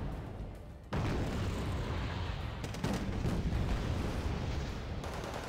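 Gunfire and artillery in the real-time strategy game Wargame Red Dragon, with infantry giving supporting fire: a dense, continuous roar of shots and booms that jumps louder after a brief quieter start and carries on without pause.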